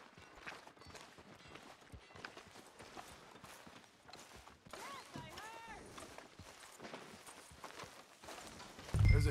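Horse hooves clip-clop in a video game, a quiet, steady run of hoof beats under characters talking, ending in a louder burst.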